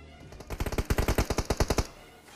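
A rapid burst of automatic gunfire from the mobile battle-royale game PUBG Mobile: about a dozen sharp, evenly spaced shots in quick succession, loud and close, then cutting off abruptly.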